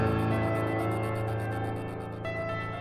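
A piano chord rings out with a rapid, pulsing tremolo effect fluttering across the top, followed by a fresh note struck near the end.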